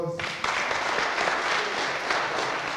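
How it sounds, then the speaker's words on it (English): Applause at a P2A graduation held in Peninsula-McCabe Methodist Church, breaking out abruptly after a brief voice and then continuing as a full, even wash of clapping from a room of people. "Give yourselves one more round of applause"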